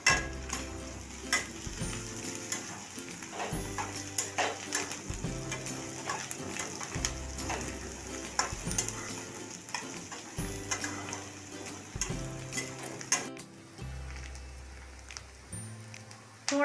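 Finely chopped onions and green chili hit hot oil in a frying pan, a steady sizzle running beneath louder background music throughout.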